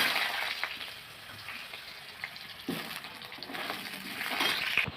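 Potatoes and eggplant frying in hot oil with bay leaf and panch phoron, a steady hissing sizzle with scattered crackles and scraping stirs running throughout, no one talking.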